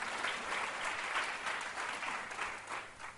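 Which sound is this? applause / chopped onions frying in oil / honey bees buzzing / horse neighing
applause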